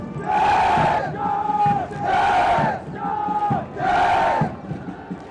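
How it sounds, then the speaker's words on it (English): Massed cadets at a National Defence Academy passing out parade cheer the passing out course in three loud, rhythmic, chanted shouts from many voices at once, each cry held briefly and separated by short pauses. "They cheer the cadets of the passing out course"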